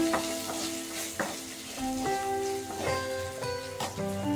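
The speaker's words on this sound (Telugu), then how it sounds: "చూడండి ఇప్పుడు ఫ్రై చేశాను నేను ఇప్పుడు పచ్చిమిర్చి ఎంత మిర్చి వేసుకుంటున్నాను" Green chillies fry in a pan with a gentle crackling sizzle and occasional stirring knocks, while a steady tonal hum sits in the background.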